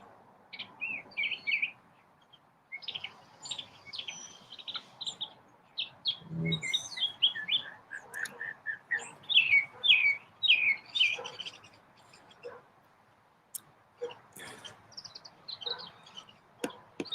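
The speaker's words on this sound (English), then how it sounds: "I might just let Chirpy sing for a while" A small bird sings alone in bursts of bright chirps and trills, close by, with brief quiet gaps between phrases.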